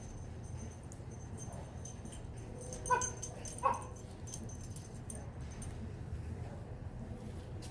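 A pet dog playing with freshly harvested Purple Passion potatoes gives a couple of brief, whimpering yips near the middle, over a steady low background with faint jangling.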